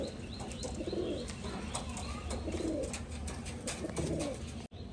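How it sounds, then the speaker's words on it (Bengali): Rajshahi Giribaz pigeons coo at a loft, soft repeated throaty calls rising and falling against a constant background hum, with a few faint chirps and no talking. "সব খাওয়া দাওয়া করছে কবুতর"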